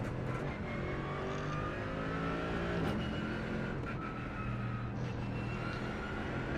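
A race car engine in the iRacing simulator roars steadily at close range, its pitch rising and falling through gear changes with a dense, continuous drone.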